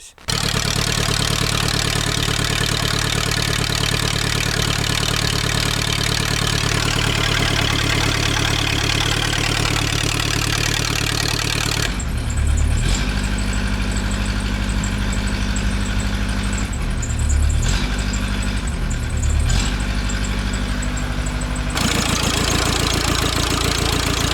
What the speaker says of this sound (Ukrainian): Тому давайте зараз спробуємо його завести і подивитися, що з цього вийшло.